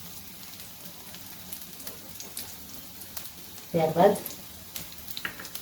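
Garlic and green chilies fry in hot oil with a soft, steady sizzle, swelling into a louder crackle for a moment near the end, while a voice speaks briefly over it.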